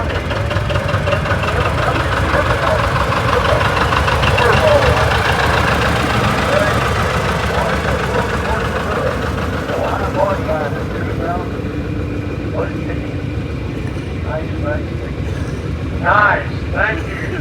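Several Oliver tractors idle and rumble steadily in a parade at a national show in Boonville, Missouri, a continuous low engine drone with light knocking, while a crowd murmurs and talks in the background.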